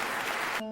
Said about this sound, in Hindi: चारों तरफ से जानवरों के शोर और तालियों की आवाज गूंज रही है।